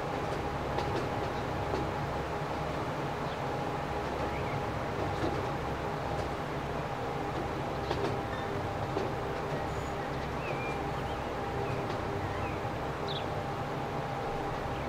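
A train in the Transport Fever rail simulation rumbles along steadily with a constant low drone and a faint tonal hum, heard alone without talk.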